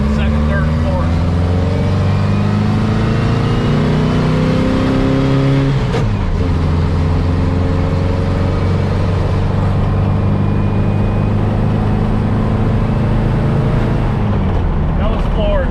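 VW Baja on smaller tires accelerating at full throttle through second and third gear, with a loud, close engine roar that climbs in pitch, drops at the shift, then climbs again under occasional voices.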